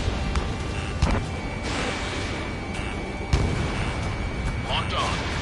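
Artillery fire in the combat flight game Ace Combat 7, a steady roar of battle noise with sharp booms near the one- and three-second marks under a continuous dense background, alongside radio chatter.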